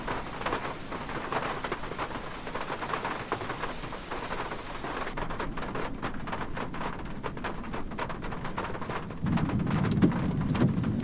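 Steady rain hissing and pattering in a storm video game, continuous and moderately loud, with a deeper rumbling swell toward the end like distant thunder.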